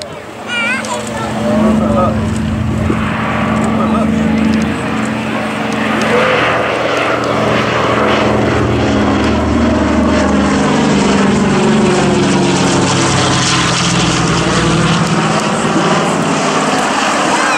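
Twin-engine Grandmaster propeller aircraft at the Old Warden airshow, a loud, steady engine drone with a shifting pitch that sweeps as the plane passes close by, sustained for the whole stretch, with a voice briefly heard early on.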